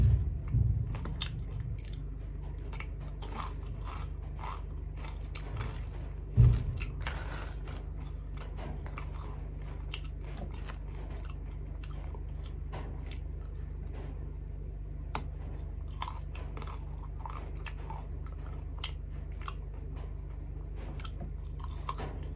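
Crunchy chewing of crisp baked vegetable snacks: steady, close-up, crackly bites with a firmer crunch early on over a low background hum, and no talking.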